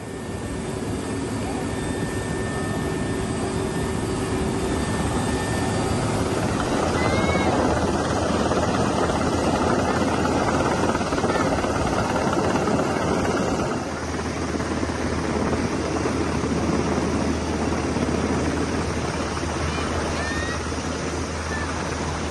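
A waterbombing helicopter flies over a fire at Way Kambas National Park, its engine and rotor roar loud and continuous for over twenty seconds, steady with a slight shift in tone midway, with voices faintly underneath.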